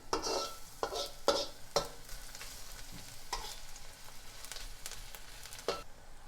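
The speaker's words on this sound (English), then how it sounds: "You hear that nice sizzle." Aromatics sizzle steadily in a hot wok while a utensil stirs and scrapes in several quick strokes, close and without talk.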